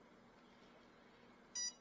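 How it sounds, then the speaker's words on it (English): A single short, high arming beep from an RC biplane's electronic speed controller near the end, after a stretch of quiet background hum. "It beeps once"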